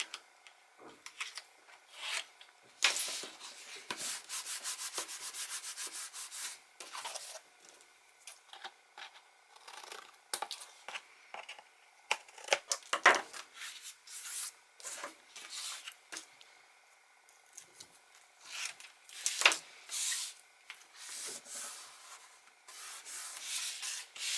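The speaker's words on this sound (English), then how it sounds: "I've got a little bit extra over here, so I'm just going to trim it" Close, quiet rubbing and scraping of paper being trimmed on a mini album, in irregular bursts of scissor-like snips and rasping strokes with pauses between.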